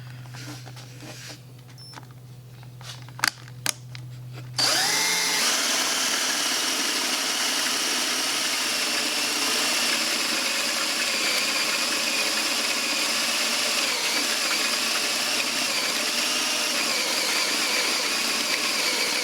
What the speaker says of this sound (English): now we're going to use a Forstner bit